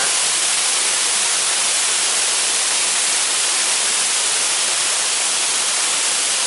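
Wang Tum waterfall in Phetchabun, Thailand, a steady broadband roar of rushing water, loud and close, unbroken throughout with no voices.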